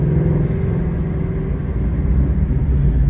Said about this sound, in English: This VOODOO motor is such a nice motor.